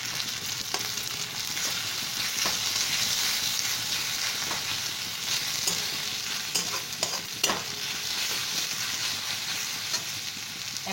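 Chopped green chili frying in a pan for masoor dal tarka, a continuous close hiss of sizzling oil with occasional clicks and scrapes of a stirring spoon, no talking.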